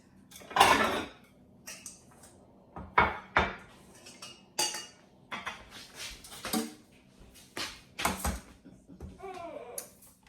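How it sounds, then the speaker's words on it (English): Buffalo shrimp being plated, with repeated clinks and scrapes of cutlery against dishes in a home kitchen, irregular knocks and clatter, and a small child babbling faintly in the background. "We're going to put this on a nice plate."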